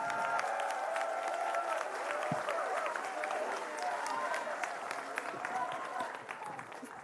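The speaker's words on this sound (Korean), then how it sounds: "다시 한번 큰 박수 좀 부탁드리겠습니다" A studio audience on a Korean TV talk show applauds loudly and continuously, dense clapping with some crowd noise that stays steady and tapers slightly toward the end.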